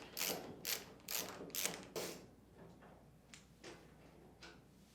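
A Phillips screwdriver backing screws out of the back panel of an LG Kenmore washer, a rapid run of five ratcheting clicks and then fainter scattered turning ticks, close and quiet, no talking.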